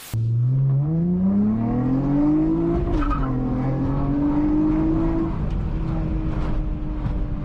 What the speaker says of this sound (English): I drive an Accord, highly modified, it's loud